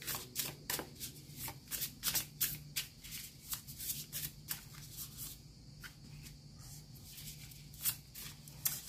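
Tarot cards being shuffled before a reading, a quiet run of soft, rapid riffling flicks and slaps repeating in bursts with a faint steady hum beneath, with no voices.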